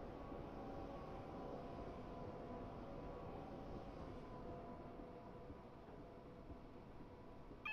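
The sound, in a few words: another train passing by on the South London network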